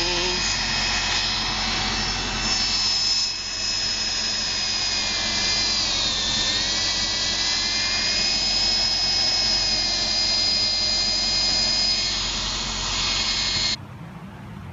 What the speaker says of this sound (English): Vlogging while I use power tools.